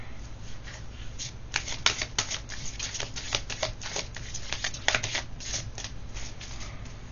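Playing cards are shuffled repeatedly at close range, crisp riffling bursts rising and falling in quick succession over several seconds, with no voices.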